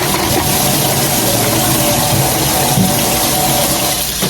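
Water runs hard and steady from a kitchen tap while dishes are washed during cooking, a loud, close, continuous rush with no talk.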